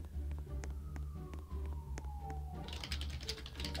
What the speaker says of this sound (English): why are there sirens?